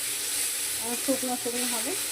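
Black cumin seeds frying in a pan, a steady close hiss of frying throughout, with a brief spoken remark partway through.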